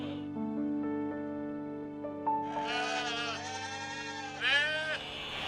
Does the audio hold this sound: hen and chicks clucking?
no